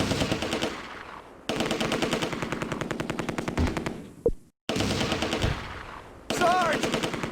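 A .30 cal machine gun in the war game Close Combat: A Bridge Too Far hammers out long rapid bursts separated by short pauses, loud and close, with a sharp single blast in between.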